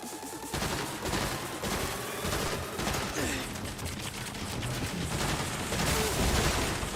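Sustained heavy gunfire in the Saints Row video game, a dense run of rapid shots and bursts going on for several seconds, loud and close, with some voice mixed in.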